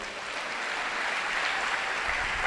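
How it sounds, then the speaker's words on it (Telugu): A church congregation claps together in a dense, steady round of applause that swells slightly and keeps going, with no voices over it. "కొట్టు చప్పట్లు ఒకసారి"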